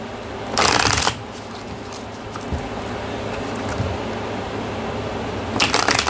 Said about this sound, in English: And 3 more shuffles.